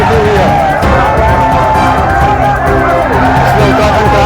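A large roadside protest crowd of Uttarakhand Kranti Dal supporters and ex-servicemen makes a loud, dense hubbub of massed voices, with shouting rising and falling continuously and close.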